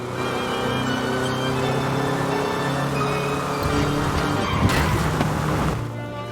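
A Volkswagen Beetle drives in the video game Forza Horizon 5, its small engine droning steadily before a brief burst of tire and road noise near the end, loud and close with no talking.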